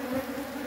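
Honeybees from an opened hive in the dark make a continuous, close, droning buzz with a steady hum and slight wavering pitch.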